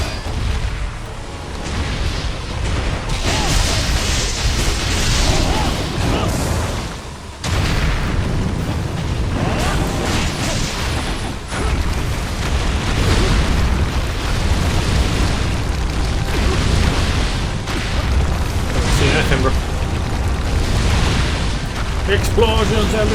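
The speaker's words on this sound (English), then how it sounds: "Explosions everywhere!" Repeated booming explosions and bursts in the video game Ninja Gaiden 2 Black crash one after another, loud and chaotic, with a voice talking over the blasts.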